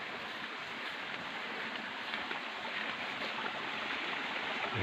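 Steady rushing water flows continuously through a small irrigation dam, a broad even stream-like roar with no breaks or voices.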